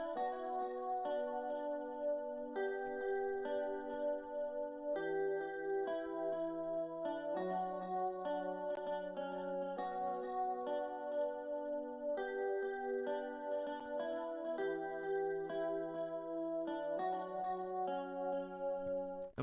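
Guitar melody in a Y2K-style beat, entering just before the downbeat, a sustained, effect-coloured line of repeating note patterns, steady and full throughout without talk.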